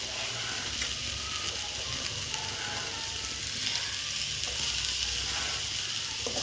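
Drumstick leaves cooking down in a pan with roasted gram and coconut give off a continuous soft sizzle and hiss, with faint stirring scrapes. The sound is steady and close, with no voices.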